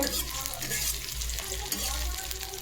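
Paneer frying in a pan, a steady close sizzle with soft stirring and scraping running throughout, with low rumbling thumps underneath.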